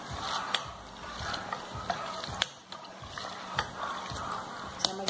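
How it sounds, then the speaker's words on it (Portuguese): Giant chicken and cheese coxinha weighing nearly a kilo deep-frying in hot oil, a steady bubbling sizzle close by with scattered pops and crackles throughout. "Daqui a pouco eu tiro e estarei fritando a outra coxinha."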